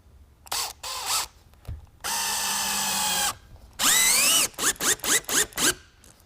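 A power drill drives installation screws into a shutter frame: one long steady whir, then a rising high-pitched spin, followed by several short quick bursts as the screw seats, close and loud.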